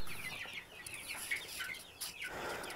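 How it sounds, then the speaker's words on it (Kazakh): Broiler chickens in a heated poultry shed cluck and chatter softly, several birds calling in quick overlapping bursts at close range with no one speaking. "Мына бройлерлер."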